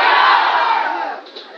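A comedy-show audience in Colombia yells an answer back at a comedian all at once, a dense, loud crowd shout that holds steady for over a second and then tails off.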